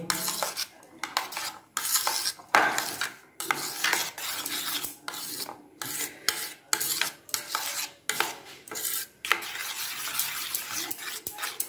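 A spoon scrapes and clinks against a bowl while cauliflower and egg batter is mixed with mustard oil, in irregular close bursts with short pauses, and a dog barks faintly at times.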